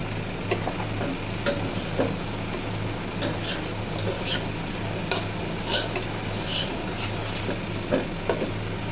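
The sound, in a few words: frying and stirring rice for beef tehari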